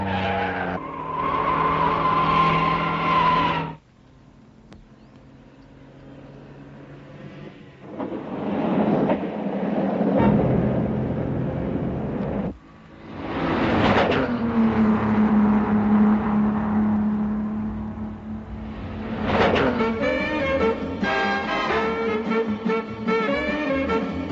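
1960s rally cars including a Lancia, an Alfa Romeo and a Ford race past in Argentina, engines roaring and whining as they approach and recede in several separate passes, with brief quieter gaps between them.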